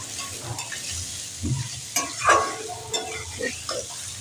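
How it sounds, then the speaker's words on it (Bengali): Onions and chillies frying in oil with cardamom and cinnamon for a mutton and potato curry, a soft sizzle under irregular stirring scrapes and clinks, close and moderately loud. "এর মধ্যে পেঁয়াজ আর লঙ্কাগুলো দিয়ে দিলাম। পেঁয়াজটা ভালো করে ভেজে নিতে হবে।"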